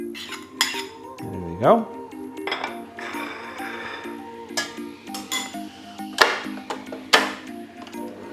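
Butter and homemade salted caramel being creamed together in a mixing bowl, with repeated clinks and scrapes of a utensil against the bowl, and a brief spoken remark in between.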